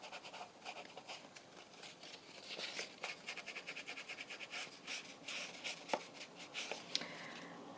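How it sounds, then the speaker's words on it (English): An ink pad or inking tool is rubbed along the cut edges of paper ephemera in soft, quick, rhythmic strokes that scratch quietly up close, with no talking. "we'll just re-ink where they're being cut out"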